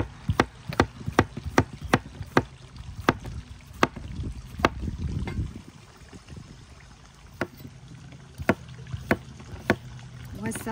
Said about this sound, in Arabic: نقصقصها ونشوف شلون مالتها الحديه